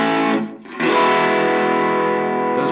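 Electric guitar chords on a heavy gain channel ring out loud with thick distortion: one brief strum, a short dip, then a big sustained chord that holds steadily.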